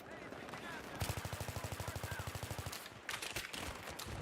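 Rapid automatic gunfire from a Battlefield 3 match on PS3, a steady burst of close, loud shots starting after a second and running about two seconds, followed by more scattered shooting and battle noise.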